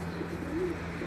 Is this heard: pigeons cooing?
yes